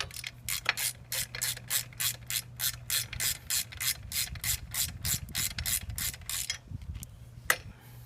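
Hand ratchet driving a bolt while Givi crash bars are mounted on a Yamaha XSR900 motorcycle: close, steady rapid clicking in repeated even strokes, then a brief pause and a single final click, with no talk.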